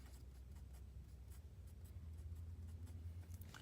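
A pen writes out drip-rate calculation values on paper, giving faint, scratchy strokes in short irregular bursts over a quiet low hum, with no talking.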